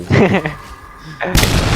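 A loud, sudden generator explosion in Dead by Daylight bursts out near the end, following a stretch of excited Thai talking and a quieter lull.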